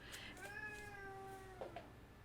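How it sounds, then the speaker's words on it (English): House cats meowing indoors ahead of a scuffle: a long, drawn-out harmonic meow rises and falls, followed by a couple of short, sharper yowls, fairly close over a steady low room hum. "My cats are going to have a cat fight."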